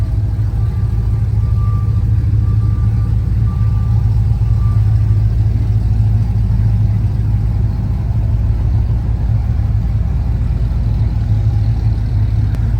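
A Chevrolet Silverado single-cab pickup with a Cadillac Escalade 6.2 engine swap idling, a steady low rumble held evenly and close with no revving.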